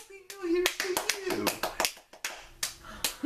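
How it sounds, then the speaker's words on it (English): Sharp, close hand claps land in an irregular rhythm, some quick pairs and some single strokes, while a person keeps talking over and between them. "I stopped clapping, you kept going"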